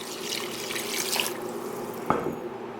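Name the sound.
pouring vegetable broth into a pot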